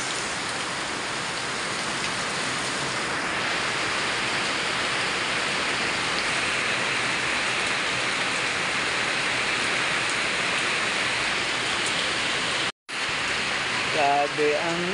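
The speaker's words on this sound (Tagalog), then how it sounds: "Sobra ang lakas ng ulan." Heavy rain pours in a dense, steady roar, briefly cutting out near the end before a voice is heard faintly.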